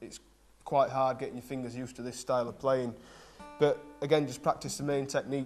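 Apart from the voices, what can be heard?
None of the usual background noises is heard.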